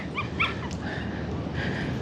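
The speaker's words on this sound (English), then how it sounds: "Oh, it's a cute dog." A dog on a coastal walk at Point Cartright, Australia gives a couple of short, high yips and whimpers close by over steady wind and surf noise.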